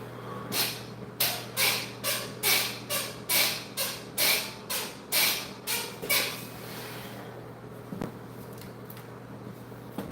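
Rickety exercise equipment squeaks about a dozen times in a steady rhythm during a bodyweight workout, each creak sharp and close, before the movement stops and only faint room noise remains.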